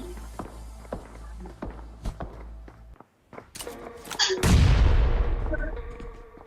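A grenade blast in the BGMI (PUBG Mobile) battle royale game, a loud booming burst with a long rumbling tail that follows quieter game footsteps and distant gunfire.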